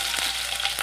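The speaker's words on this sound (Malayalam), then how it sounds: "നമുക്ക് ഈ എണ്ണയിലേക്ക് കടുക് ഇട്ട് കൊടുക്കാം" Mustard seeds and green chilli frying in hot oil for lemon rice, a steady broadband sizzle with a few faint pops, close and continuous with no voices.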